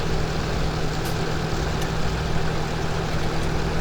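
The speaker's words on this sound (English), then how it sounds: "the tractor's idling here" A tractor engine in Farming Simulator 17 idles with a steady low drone and a constant hum, mixed into dense broadband background noise. The sound stays level and unbroken throughout, with no talk.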